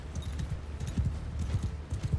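Horse hooves in Mount & Blade II Bannerlord, a rapid, rhythmic clip-clop of galloping hoofbeats, low and thudding, repeating steadily and fairly close with no talk over it.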